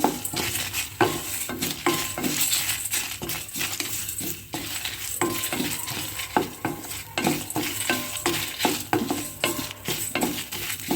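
Spices including cumin seeds, fenugreek, curry leaves and dried red chillies are dry-roasted and stirred in a pan for a South Kenara temple-style mentya kudilu, giving steady scraping and rattling with frequent small clinks and a faint sizzle throughout.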